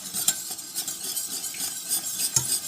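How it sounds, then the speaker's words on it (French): A spoon stirs a thickening flour-and-milk sauce (sauce aurore) in a pan, with soft scraping and light clinks of utensil against the pot over a faint sizzle, close and steady with no talking. "Donc, il faut touiller"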